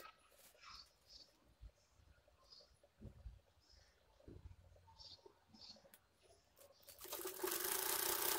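A sewing machine stitches along marked lines on blouse fabric for a girls' long parikini blouse, in short separate bursts among quiet handling noises, then running louder and continuously at the end.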